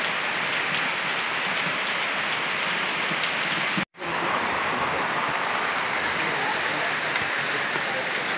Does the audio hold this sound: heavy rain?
yes